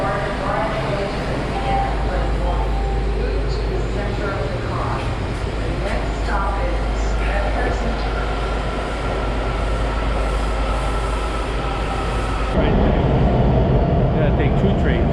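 A Metro subway train pulls into an underground station on a snowy day, its steady low rumble and rail noise filling the space close by, growing a little louder near the end.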